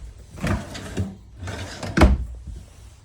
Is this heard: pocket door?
yes